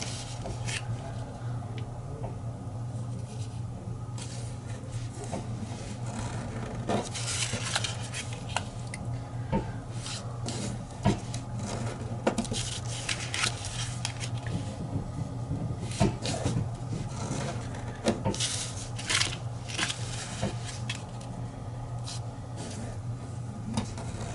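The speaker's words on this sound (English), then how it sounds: "we're going to fold the 4 corners to the center" Paper being folded into an origami Easter egg makes soft, close crinkles and crisp creasing clicks, scattered irregularly over a low background hum.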